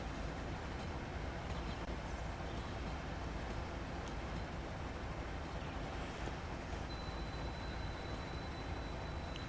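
A freight train bound for a power plant rumbles steadily in the Train Sim Pro USA game, a continuous broadband roar with a faint high whine appearing near the end and no talking.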